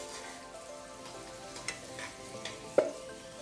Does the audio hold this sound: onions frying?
yes